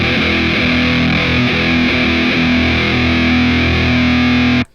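An electric guitar played through a Tube Screamer overdrive pedal for a thick tone gives a loud, dense, sustained distorted roar of held chords that cuts off abruptly at the end.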